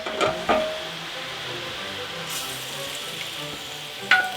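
Roquefort sauce reducing in a pan for steak, giving a steady soft sizzle and bubbling with a few louder stirring clatters near the start and end, no talk.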